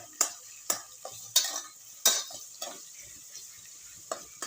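Whole spices for chicken biryani fry in hot oil with a soft sizzle, punctuated by sharp scrapes and clinks of a spoon stirring against the pan.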